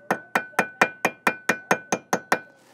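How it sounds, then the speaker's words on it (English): A hammer strikes a BMW E30 rear brake rotor about ten times in a steady, even rhythm, each sharp ringing clank decaying quickly, close and clear with no talking. "just a little love tap from the hammer"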